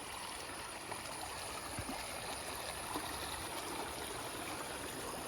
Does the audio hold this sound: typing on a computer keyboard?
no